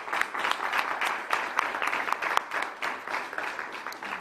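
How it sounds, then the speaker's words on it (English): An audience at a live press update from the Philadelphia DA breaks into applause, with dense, moderately distant clapping running steadily throughout the short stretch. "let's give them a great round of applause."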